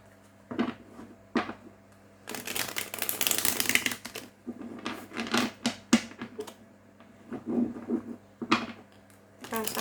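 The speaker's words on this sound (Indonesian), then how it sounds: "Di sini aku akan coba shuffle kartunya untuk Capricorn." Tarot cards are shuffled by hand for a Capricorn reading, giving bursts of crisp riffling and slapping close up, with quieter gaps between the clusters of card noise.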